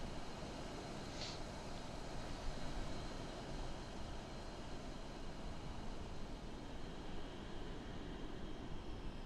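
Steady broadband roar of passing aircraft in Microsoft Flight Simulator 2020, including a fighter jet at Mauritius airport, a continuous even wash of jet noise without distinct peaks.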